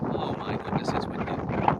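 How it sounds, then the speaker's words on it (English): Gusty wind buffets the microphone on an exposed Peak District hillside, a rough roaring rumble that rises and falls for under two seconds with no clear voice. "Oh my goodness, it's windy."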